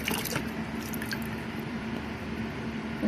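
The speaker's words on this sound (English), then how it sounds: "so I'm gonna just pour a little bit out until I get to that line for the water." Water is poured out of the tank of a Bissell Little Green Pro hot spot cleaner, a steady, soft, continuous splashing and gurgling heard close up without pause for about three seconds.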